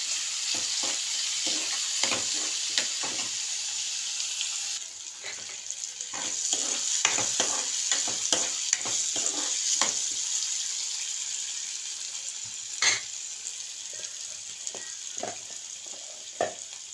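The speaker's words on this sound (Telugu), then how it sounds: "కొంచెం బాగా ఫ్రై అవ్వాలి" Soaked moong dal frying in a pan, a constant close hissing sizzle with repeated spatula scrapes and clinks against the pan as it is stirred, continuing without talk.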